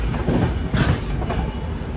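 A train rolling slowly into a station, with a steady low rumble and rail noise that swells and fades softly, fairly close and continuous with no talking.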